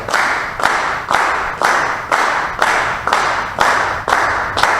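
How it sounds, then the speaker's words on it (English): A group claps a steady rhythm in a workshop room, about nine loud, evenly spaced bursts of many hands striking together, each with a short ringing tail, and no voices. "Keep thinking taka, taka as you clap, and listen to the whole room as you do so"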